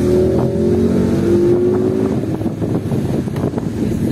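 A Ford Mustang GT exhaust roars from inside the moving car on a road, a loud, steady engine drone with a rising tone early on, mixed with wind buffeting and no talk.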